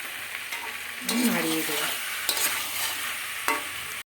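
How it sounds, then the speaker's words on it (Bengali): Mutton stirred and sautéed with spices and chopped tomato in a pan, a steady sizzle with repeated scraping stirs of a spoon against the pan, close and loud, no talk. "মশলার সঙ্গে মিশিয়ে ভালো করে আমি এবার ঢাকা দিয়ে দেবো বেশ অনেকক্ষণ কষা করতে হবে মাংসটা"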